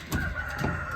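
Hamburg and Australorp hens on a small off-grid Australian homestead cluck briefly, a couple of soft, close calls over a steady outdoor background.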